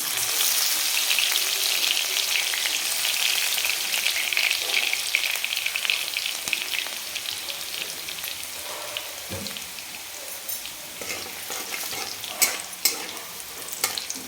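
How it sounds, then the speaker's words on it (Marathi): Four or five cloves of crushed garlic sauté in hot oil to a golden color, with a bright continuous sizzle over repeated spatula scrapes and stirring taps. The frying is close by and gradually settles to a lighter crackle. "लसूण चांगला सोनेरी कलरवर परतून घ्यायचा आहे आपल्याला"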